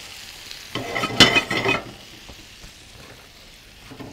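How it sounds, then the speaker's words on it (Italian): Raw spinach hits a hot frying pan with a loud burst of sizzling and stirring, then a quieter steady crackle, close up. "Vado con gli spinaci, così direttamente. Senza bollirli prima, direttamente sulla padella."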